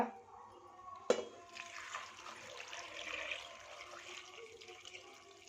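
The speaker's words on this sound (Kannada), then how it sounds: "ಇದಕ್ಕೆ ನೀರು ಹಾಕ್ಕೊಳ್ಳಿ." A sharp knock, then water pours and splashes steadily into a pot of field beans for boiling, fairly quiet, with a low background hum.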